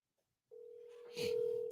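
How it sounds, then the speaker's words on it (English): A telephone dial tone sounding as a phone call is placed, a steady tone that starts abruptly, then joined by a brief burst of handling noise, quiet and alone. "I'm making a phone call."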